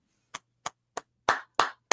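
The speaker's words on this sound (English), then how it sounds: "I got to give you a round of applause" A round of applause: six sharp hand claps at an even, brisk rhythm, close and loud, with the last few fuller and heavier than the first, no talking.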